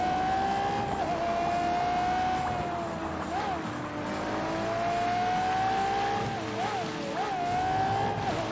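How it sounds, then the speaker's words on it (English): A Ferrari engine in a racing video game, The Grand Tour Game, roars steadily, its pitch climbing and dropping sharply with gear shifts, loud and continuous throughout. "this Ferrari seems so loud"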